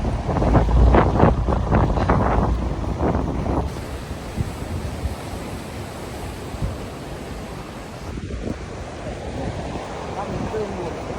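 Wind and surf fill the air at a beach reached at the end of a run, a steady broadband rush with wind buffeting the microphone, after a stretch of close talking and footsteps at the start.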